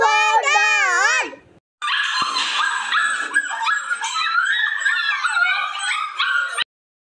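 A dog yips and whines in a quick, high, wavering burst, then after a short pause gives a longer run of excited yelps and whimpers mixed with small howls, heard up close.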